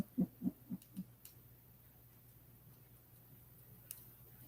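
An owl hoots close to its nest at night, giving four soft, low hoots in a quick, evenly spaced run, then silence with faint background hum.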